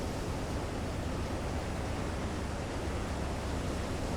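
Steady, dense rush of ocean waves breaking against a U-boat's bow in Silent Hunter 3, a continuous broadband surf roar that stays loud and even throughout, with no voices.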